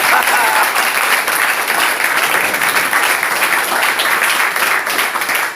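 Congregation at a French-language church service applauding for the Lord, sustained clapping from a crowd with a few voices mixed into the steady, loud din.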